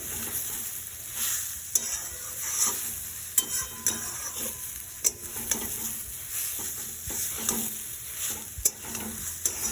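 Semolina for carrot payesh is stirred in a pan over a continuous frying sizzle, with repeated spatula scrapes and small knocks at an uneven pace, close and without voices.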